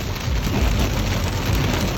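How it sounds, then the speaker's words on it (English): Hail and heavy rain pounding down during a storm, a dense, loud, continuous hiss and patter close by with a low rumble underneath and no voices. "We got some hail."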